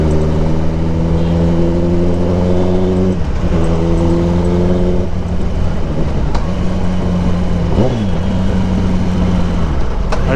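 Kawasaki ZX10R superbike engine humming loudly and close while being ridden, holding steady tones with two brief dips and recoveries in revs as it shifts, no voices present.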